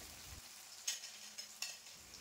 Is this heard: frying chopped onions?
yes